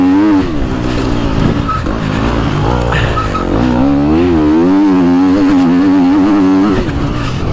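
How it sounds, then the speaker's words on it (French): A motocross motorcycle on a dirt track at Trofarello, Italy, skids as the rear brake is pressed too hard; the loud, close engine drones and wavers in pitch throughout, with the scraping skid mixed into its roar. "J'appuie trop sur le frein arrière, vous entendez?"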